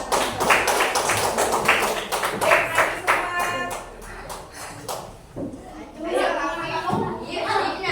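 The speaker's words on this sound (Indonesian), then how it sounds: "yuk beri tepuk tangan dulu semangat" Primary school children clap their hands in quick, rhythmic bursts at close range for several seconds, then the clapping stops and people talk.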